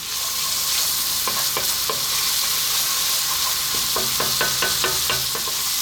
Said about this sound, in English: we're going to go for that tablespoon of garlic ginger paste. We're going to add a little bit of salt.